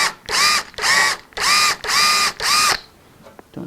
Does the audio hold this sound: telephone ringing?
no